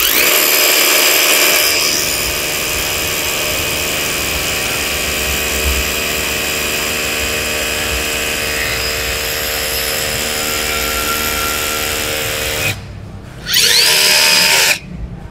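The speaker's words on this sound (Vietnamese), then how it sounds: "Và em sẽ chỉnh chế độ khoan. Khoan có búa. Thử trên nền bê tông nha anh em." Dekton M21-RH2603 cordless hammer drill fitted with an 8 mm bit, hammer-drilling into a concrete floor, a loud sustained grinding whine for about twelve seconds, stopping, then a short final burst.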